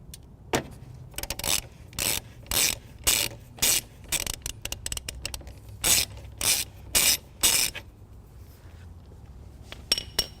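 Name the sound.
loosening battery positive terminal nut with ratchet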